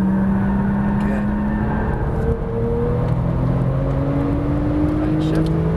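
Porsche 991 Turbo accelerating hard around a race track, its engine tone rising steadily and loud throughout, with tire and wind roar filling the background while a voice speaks over it.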